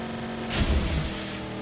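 A car engine in the Mad Max game surges briefly in a short, close acceleration burst, then settles back to a steady hum.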